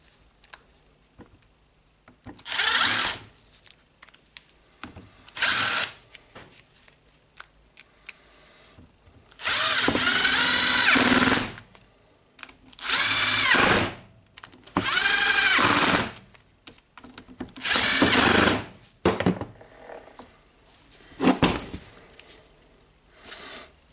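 Screws are driven in while a Bosch GWS 20-230 angle grinder is reassembled. Loud, close bursts of a powered driver whir on and off about seven times, with quiet pauses between them.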